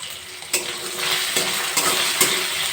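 Potatoes frying in a pan after salt and turmeric have gone in over toasted cumin, a steady close sizzle marked by several sharp scraping stirs of a spatula against the pan.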